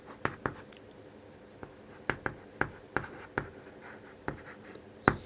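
Chalk or marker strokes on a classroom board during a lecture, a rapid series of sharp taps and scratches, close and fairly quiet with no talk.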